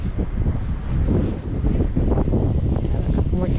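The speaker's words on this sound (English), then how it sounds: "It's so windy." Strong wind buffets the microphone in a continuous low roar on an Amsterdam street while fishing, with gusty rumbling throughout and no clear voices.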